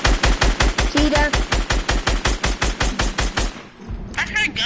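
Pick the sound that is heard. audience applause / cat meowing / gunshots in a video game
gunshots in a video game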